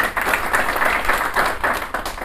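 Members of a study group at a formal meeting in Pakistan give a round of applause, a loud, dense patter of many hands clapping continuously and nearby, with no speech over it.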